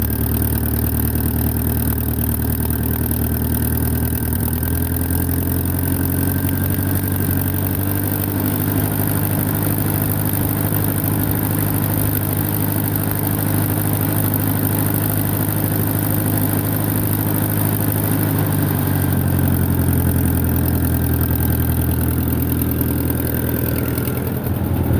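A Ferguson TO30 tractor engine runs loud and close without a break, a steady mechanical drone that rises slightly near the end as it throttles up.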